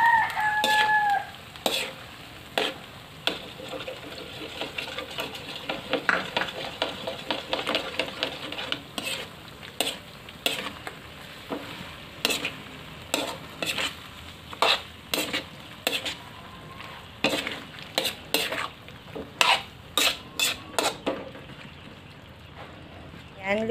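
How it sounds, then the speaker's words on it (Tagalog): Cornstarch slurry being stirred into chop suey sauce in a pan: repeated rhythmic scraping strokes of a spoon over a low simmering sizzle, close, with a rooster crowing faintly in the background. "Ayan, konti-konti lang tapos halihaluin para hindi siya mamuo."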